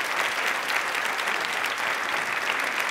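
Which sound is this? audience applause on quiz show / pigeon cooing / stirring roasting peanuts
audience applause on quiz show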